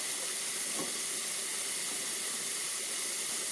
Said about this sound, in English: And then we're going to let the sink fill.